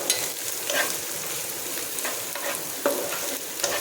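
Chopped onion sizzles in a pan over a low gas flame with garlic and chilies for masala pasta, a steady close crackle broken by a few scraping stirs.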